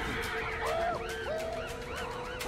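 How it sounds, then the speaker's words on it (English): A bird in the video game Ancestors gives repeated honking, goose-like calls in arching swoops over a steady ambient bed, fairly close and with no talking. "Watch out for the bird!"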